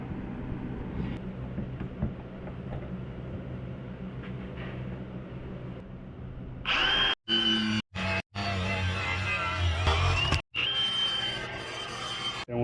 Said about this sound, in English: I need to cut this axle.